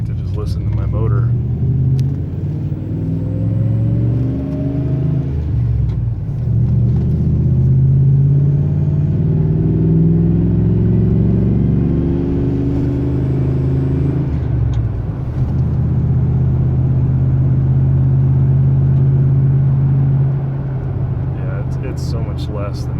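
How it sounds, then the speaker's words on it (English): A 2003 Ram Hemi V8 fitted with a Taylor Helix throttle body spacer rumbles steadily from inside the cab while driving, a low continuous drone with small rises in pitch, as someone talks over it throughout. "I like to just listen to my motor."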